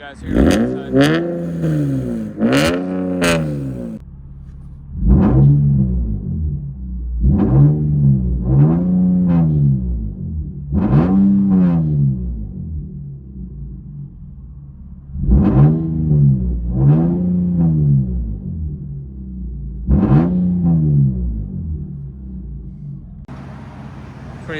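Heard from the side, a 2017 Nissan 370Z with headers and a Motordyne cat-back exhaust idles and rumbles, then barks through a long series of quick revs in pairs and clusters, loud and close.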